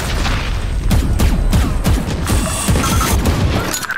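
A grenade explosion and rapid gunfire in the tactical shooter Valorant, with loud dense bursts of shots crackling back to back for several seconds at close range, carrying almost no speech.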